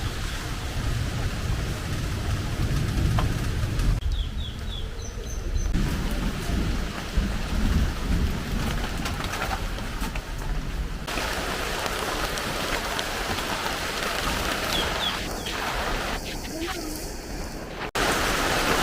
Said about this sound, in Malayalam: മഴയാണ്, മഴ ഇടിയും ഉണ്ട്.